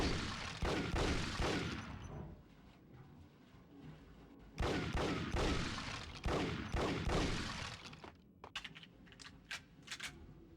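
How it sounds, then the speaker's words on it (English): Gunshots in Max Payne as boxes are shot up: dense rapid volleys of loud close gunfire in two long bursts, then scattered sharper single cracks and clicks. "I'll just shoot these boxes"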